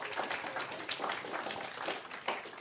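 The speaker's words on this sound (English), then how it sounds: "Let's give Justin a big round of applause back there." An audience applauds a guest named Justin, a dense, steady wash of many hands clapping throughout with no break and no voices standing out.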